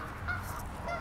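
A couple of geese honk briefly at moderate distance over a low outdoor background, among many geese and doves in Whittier, California.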